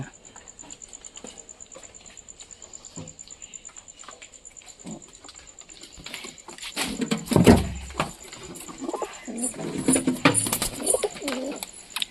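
Pigeons sheltering in their coop during heavy rain, a white one trying to nest, coo softly over a steady faint patter of rain, with a louder burst of rustling and movement toward the end.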